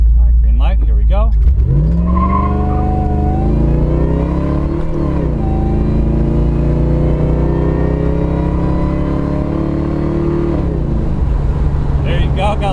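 Saleen XP8 accelerating hard from a green light, engine note climbing steadily through the revs with a short burst of tire squeal from wheel spin at the start, loud and close from inside the car, with a voice over it.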